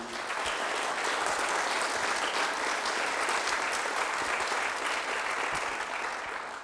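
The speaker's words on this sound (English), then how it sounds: "I'd like a round of applause to Walter Rybka" A large audience applauds continuously, a dense steady wash of clapping that holds at full strength and tapers slightly at the end.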